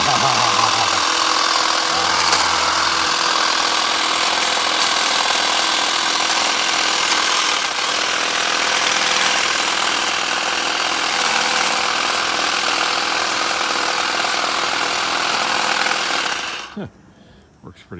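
A Ryobi power tool cuts through small branches outdoors, a loud, steady motor-driven buzz and saw whine running almost continuously for about sixteen seconds before cutting off abruptly near the end.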